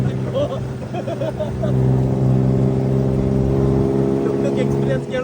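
A tuk tuk carrying six passengers through Bangkok drones with a steady engine hum that swells partway through, with people talking over it.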